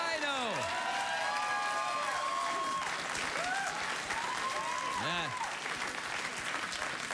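A late-night talk show studio audience applauds for several seconds, a continuous full roar of clapping with cheers and whoops and a host speaking over it.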